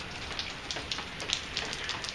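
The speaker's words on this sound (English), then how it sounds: "It's raining." Steady rain falling on a grey, cool day, a soft continuous hiss with scattered light drops tapping on a surface.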